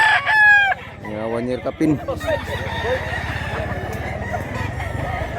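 A rooster crows loudly nearby at the start, followed by clucking and the calls of other fowl, while someone speaks over the birds.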